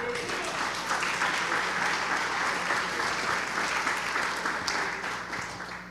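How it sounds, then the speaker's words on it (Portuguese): A church congregation applauds continuously and loudly for several seconds, the clapping dense and even, fading slightly at the end. "aplauda o Senhor"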